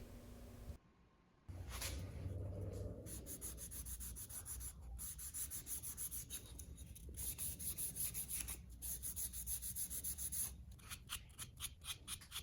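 Final hand sanding of a wooden serving tray with custom handles: steady, rhythmic rubbing strokes, close and continuous after a short pause near the start, with no talking.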